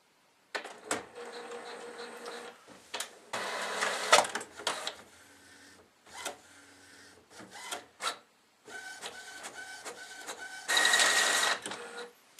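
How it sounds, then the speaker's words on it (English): An inkjet printer on a Google Cloud Print job runs in bursts, whirring and clattering as the print head shuttles back and forth, with short pauses and a final loud feed near the end. "let's see if it actually starts printing on the printer"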